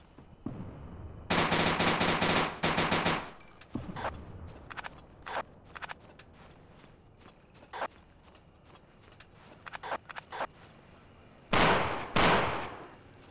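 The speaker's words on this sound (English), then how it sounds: "Okay, that's it, I'm just gonna shoot him." Automatic gunfire in Battlefield: long loud bursts near the start and end, with scattered single shots and short bursts in between.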